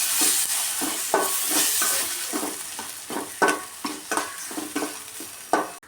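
Tomato with salt sautéing in a pan, with a series of close, rhythmic stirring scrapes over a soft steady sizzle, no talking.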